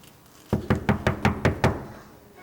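Knocking at a door in a puppet show: seven firm, evenly spaced knocks sound close and loud, then stop.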